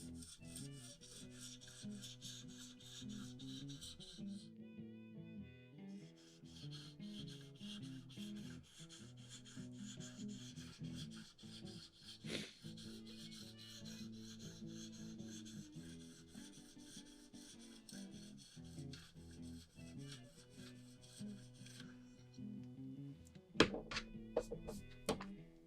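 A Spyderco Tenacious knife blade, very dull, drawn in repeated strokes across an oiled stone on a KME sharpening system, a steady close scraping rasp with brief breaks and a few taps near the end.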